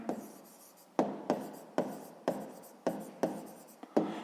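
Close, quiet pen strokes scrape on paper while solving a school math exercise, about eight short scratching bursts in an uneven rhythm, with no voices.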